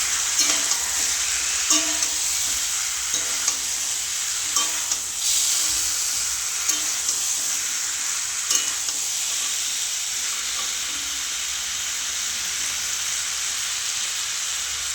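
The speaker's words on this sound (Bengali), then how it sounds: "সবজিটা ভাজা হয়ে যাচ্ছে" Young pumpkin and mixed vegetables fry in a pan with a continuous bright sizzle, with occasional light scrapes and knocks of stirring, without any talk.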